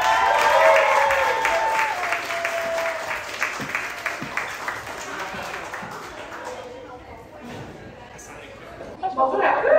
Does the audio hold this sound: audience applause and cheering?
yes